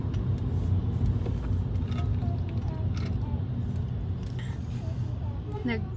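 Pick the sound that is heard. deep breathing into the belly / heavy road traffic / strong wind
heavy road traffic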